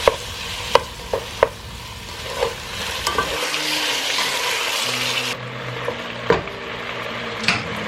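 Pork ribs for sinigang soup are stirred in a pot, with sharp spoon clacks against the metal over a frying hiss; partway through, a steady low hum joins as the scraping continues, close and alone.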